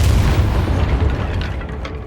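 The Depulso force-push spell cast in Hogwarts Legacy, a loud deep booming blast that rumbles and slowly fades out.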